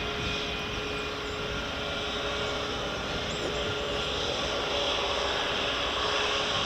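United airliner taxiing at Edinburgh Airport, a steady loud engine roar and whine holding evenly throughout, heard from outside without voices.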